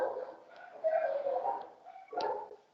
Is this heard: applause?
no